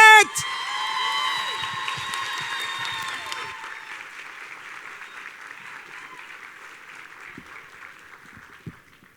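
A graduation audience applauds its master of ceremony, loud at first and tapering off with scattered whoops. A voice speaks over the tail of the clapping.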